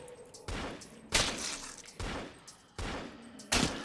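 Gunfire from the horror video game The Butchery rings out in five loud, sharp bursts spaced roughly every half second to second, each decaying quickly with no voice over them.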